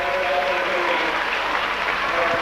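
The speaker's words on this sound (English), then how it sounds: "The applause builds as they approach the finishing line for the penultimate time" Spectators applauding along the course at the 2002 World Cross Country Championships as runners near the finish line, a dense continuous wash of distant crowd clapping with no talk.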